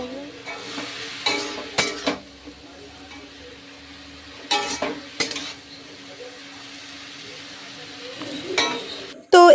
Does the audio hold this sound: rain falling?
no